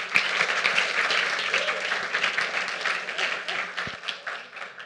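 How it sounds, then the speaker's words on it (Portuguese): Audience applause fills a conference hall after a speaker is introduced for a talk on Google Summer of Code: dense, sustained clapping from many hands at close range, holding steady for about five seconds and easing slightly at the end. "Uma salva de palmas para ela."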